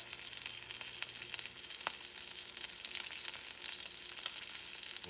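Duck leg confit frying in a pan, a steady close crackling sizzle with scattered small pops, with no talking.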